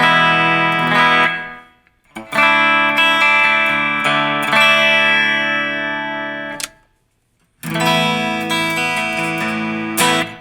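Enya Nova Go Sonic electric guitar on its split-coil pickup setting, sounding as loud, sustained chords with heavy effects and distortion, in two long strummed passages separated by brief silences, with no talking.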